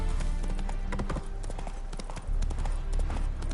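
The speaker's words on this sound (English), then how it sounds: "Spooking my horse. Roach doesn't like ghosts." Horse hooves clip-clopping steadily in The Witcher 3, a close, continuous run of hoof beats over a busy game soundscape, with faint voice-like sound mixed in.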